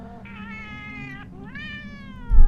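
A black one-eyed cat meowing: two clear, drawn-out meows, the second rising in pitch, close and fairly quiet, followed by a brief dull thump at the end.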